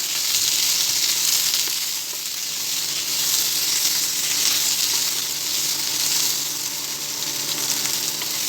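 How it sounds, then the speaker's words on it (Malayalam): Masala for chana gravy sautéing in a pan, giving a loud, continuous close sizzle that swells and eases slightly, with no voices. "നല്ല വതങ്ങട്ടെ, വഴറ്റിയെടുക്കാം"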